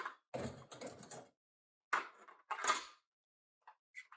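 Metal silverware, including small forks and spoons, dropped and clattering into a 3D printed plastic tray, several quick bright clinks and rattles in bursts separated by short silences, close and clear.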